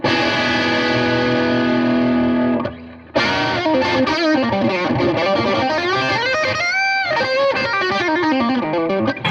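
An Epiphone 59 Limited Edition Les Paul electric guitar with a hot pickup plays through heavy distortion, with sustained chords giving way to a quick run of notes, loud and close without talk.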